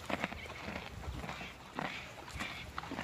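Horses shuffle and jostle along a fence while being fed carrots, giving soft scattered hoof thuds and movement noises at close range with no talk.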